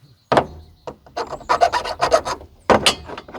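A small file from a chainsaw kit rasps over rough edges in about a dozen short, close strokes, coming in quick uneven bursts with brief pauses between them.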